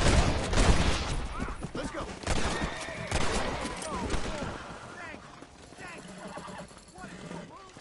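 Gunfire rings out in the Red Dead Redemption game as a burst of several sharp shots in quick succession, with horse hooves and game noise behind them. Someone talks over the shooting.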